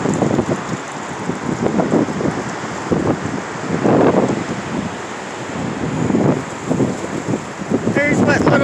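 A strong wind storm roars outdoors in surging gusts that buffet the microphone, rising and falling in loud rushes with a constant blustery background.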